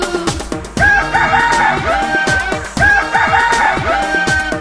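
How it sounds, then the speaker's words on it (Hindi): A rooster crows twice in succession, loud and close, set within a Hindi children's rhyme with a musical backing underneath. "कुकड़ूकू, कुकड़ूकू, मुर्गा बोले कुकड़ूकू।"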